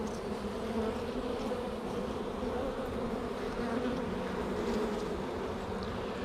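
Honey bees buzz around an open colony during a spring hive inspection, a steady, dense drone filling the air without pause and without any talking.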